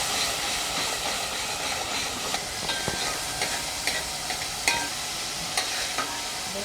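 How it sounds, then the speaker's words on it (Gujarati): Onions sauté in a pan for aloo gobi, giving a steady broadband sizzle broken by light, irregular clicks and scrapes of stirring. "ડુંગળી આપણી સતળાઈ ગઈ છે."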